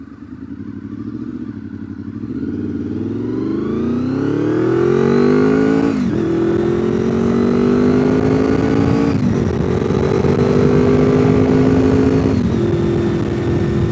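A motorcycle rides a mountain road, its engine rising steadily in pitch as it accelerates, briefly dipping at each gear shift, then holding a loud, close drone with no talking.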